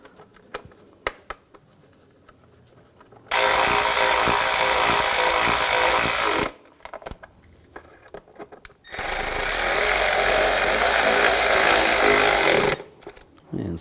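A power tool runs hard in two long, loud, steady bursts while snugging bolts during a timing belt and water pump job on a 2004-2009 Audi A4 engine, with quiet clicks and handling noises between bursts.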